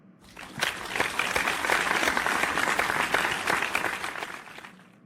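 A church gathering applauds together, a steady wash of many hands clapping that swells quickly, holds for several seconds, then eases off at the end.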